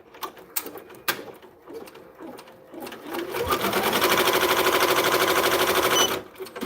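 A multi-needle embroidery machine stitching onto fabric backed with cutaway stabilizer, starting with sparse thumps and clicks, then settling into a loud, steady, rapid rattling hum for several seconds before stopping near the end.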